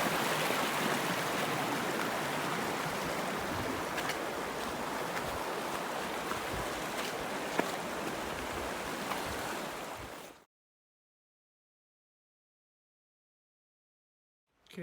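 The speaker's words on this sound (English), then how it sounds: "it's the start of the river crossing. There's a couple of little streams" Small streams flow at a river crossing on the Pacific Crest Trail, a steady, full rush of water that runs continuously and close, then cuts off abruptly into silence.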